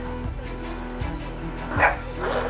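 A dog barks in a short series of sharp, close woofs, used as a sound effect in a paranormal story, set against a low steady background hum.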